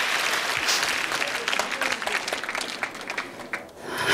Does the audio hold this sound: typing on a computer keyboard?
no